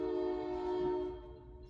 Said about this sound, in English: Here comes the train down to Fort Edward.